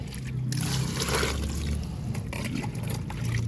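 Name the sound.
water being poured into a bucket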